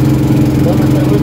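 A steady, loud motorboat engine drone with a low rumbling hum runs throughout, idling nearby on the Amazon River.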